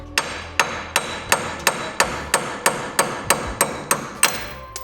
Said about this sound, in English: we're gonna hammer them out